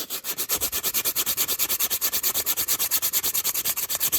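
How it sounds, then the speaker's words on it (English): Sandpaper rubs back and forth along the edges of a wooden craft kit piece shaped like a crow, a fast, even, close rasping rhythm of quick strokes continuing without pause and without voices. "I'm just going to sand the edges"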